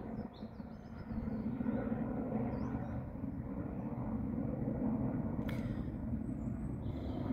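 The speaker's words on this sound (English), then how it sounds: "There's a helicopter." A steady low rumble of a helicopter passing at a distance near Stirling University, Scotland, continuous throughout with faint birdsong above it.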